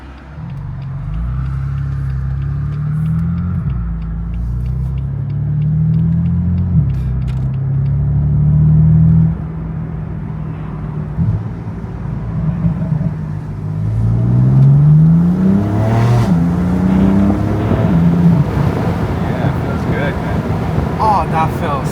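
BMW M4 engine revving hard and accelerating, a loud steady low rumble with rising pitch sweeps as it pulls through gears, under an almost constant run of in-car talk.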